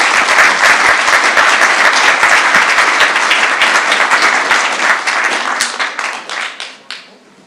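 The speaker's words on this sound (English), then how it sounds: "Please give a big round of applause for our panelists." A large convocation audience claps loudly for the panelists. The dense applause holds steady for several seconds, then thins out and fades to a few scattered claps.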